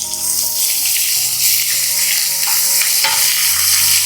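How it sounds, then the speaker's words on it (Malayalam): Chopped onion hits hot oil with chillies in a pan, giving a loud, continuous sizzle and frying hiss close up, with faint stirring scrapes under it. "അപ്പോൾ മുളകിൻ്റെ നിറമൊക്കെ ഒന്ന് മാറി വരുന്ന സമയത്ത് ഇതിലേക്ക് ഒരു ചെറിയ സവാള ഇതുപോലെ കട്ട് ചെയ്ത്"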